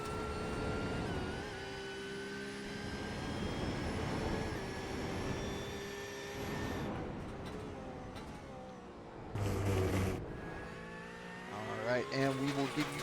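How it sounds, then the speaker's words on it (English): A Boxer six-cylinder race car in iRacing at Oulton Park gives off a steady high straight-cut gear whine over its engine drone as it runs down a straight. Someone talks over it throughout, and the pitch shifts near the end. "So that whining you're hearing is not me. It is the car. It is the transmission."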